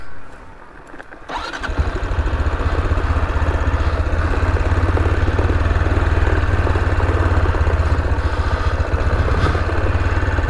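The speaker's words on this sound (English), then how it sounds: "So yeah, just using the engine to give me brakes" A motorcycle descending a mountain road in Victoria's High Country is engine braking. After a quiet start the engine rises into a loud, steady, throbbing drone that holds close and constant.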